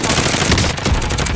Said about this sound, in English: Oh, somebody's firing.